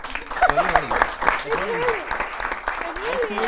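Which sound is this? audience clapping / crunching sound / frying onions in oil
audience clapping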